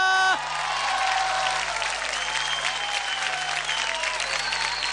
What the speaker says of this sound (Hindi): तो मनोज और नील के लिए जोरदार तालियां।